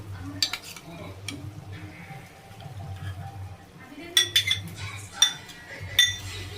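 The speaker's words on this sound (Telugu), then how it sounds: "వేసుకున్నాక కలపాలి కొద్దిగా." Spoon stirring chicken curry in a metal pot: a steady low scraping churn runs throughout, and in the second half it breaks into several bright, close clinks of the utensil against the pot, with no talking.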